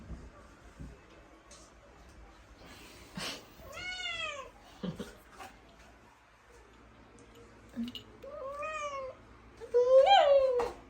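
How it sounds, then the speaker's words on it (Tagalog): A cat meows several times in rising, wavering calls, close and fairly loud, with the last cry the strongest, while people talk softly in the background. "Mag-meow-meow."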